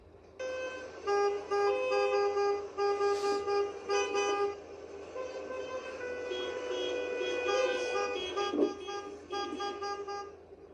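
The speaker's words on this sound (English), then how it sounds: "the loud beeping has also been disturbing nearby residents" Repeated car horns honking in long and short blasts, several overlapping, loud and close, with revving engines and traffic noise beneath in a residential area.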